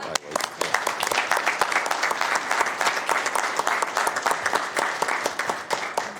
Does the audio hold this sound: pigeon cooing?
no